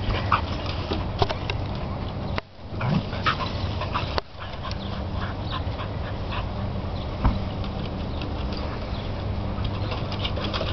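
Several dogs just let out of a kennel make a steady, close racket of barks and yelps that carries through the whole stretch, with only brief lulls.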